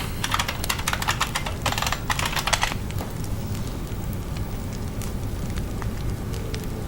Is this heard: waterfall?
no